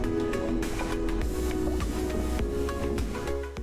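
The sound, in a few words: underwater ambience sound effect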